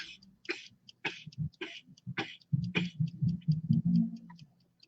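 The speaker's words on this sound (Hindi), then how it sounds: "तो जैसे कोई खांस रहा" Several short, harsh coughs and throat-clearing bursts break out in a deep-breathing kundalini class, repeating irregularly at moderate loudness and running into one another toward the end.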